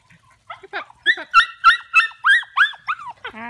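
A rapid run of high-pitched yips from nearly eight-week-old puppies, about eight sharp barks in quick succession close by, trailing off into a short whine.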